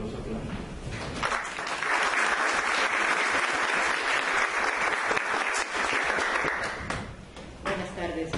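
An audience at a Spanish-language book presentation breaks into sustained applause, a dense wash of clapping lasting several seconds before thinning out.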